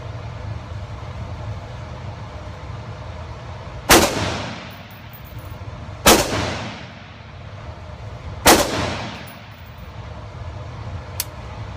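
Three sharp gunshots from an M1 carbine and an AR rifle crack at a firing range, spaced roughly two seconds apart, each followed by a short echoing decay over a low background hum.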